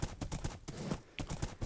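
Horse hooves clip-clopping in Minecraft, a quick run of about a dozen light, even hoof knocks close by, with no talk over them.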